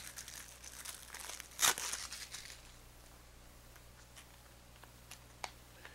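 Crinkly plastic wrapping being peeled off a new, sealed deck of playing cards, with one loud crackling rip near the start of the sequence followed by softer scattered rustles and a small tick, close up and without speech.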